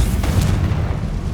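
A Confringo blasting spell goes off in Hogwarts Legacy as one loud, close, booming burst with a rumbling tail, heard alone with no talk over it.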